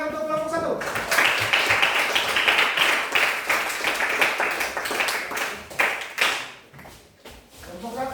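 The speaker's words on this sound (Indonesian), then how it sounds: "Silakan tepuk tangan untuk kelompok 1." Classroom audience applauding a student group after its presentation: a dense, fairly close burst of hand clapping that swells, holds, then tapers off near the end.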